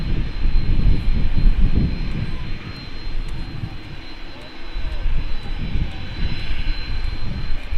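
Aircraft engine roar at Manchester Airport, a steady loud rumble from a plane on the ground, close and continuous, swelling and easing slightly over time.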